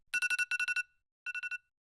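A phone alarm rings early in the morning: two bursts of rapid, bright electronic beeps, the first about eight pulses long, then a brief pause and four more, clear and close with no other sound.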